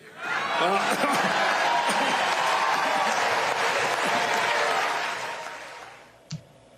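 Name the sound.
crowd cheering and applause at political rally in Texas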